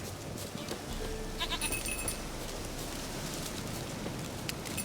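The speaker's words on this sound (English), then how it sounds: "Here, goat." Goat bleats from The Witcher 3: Wild Hunt sound out over a constant hiss resembling rain, short bleating calls around the middle of the stretch, moderately loud against the noisy outdoor ambience, with no speech.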